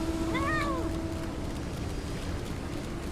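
A frightened cat lets out one short, clear meow near the start, over a constant roar of strong wind outside that carries on after the cry fades.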